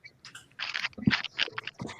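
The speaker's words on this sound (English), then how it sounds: "Somebody's crunching something." Someone crunches food while chewing, close and fairly loud, a quick run of crisp bites and grinding over about two seconds.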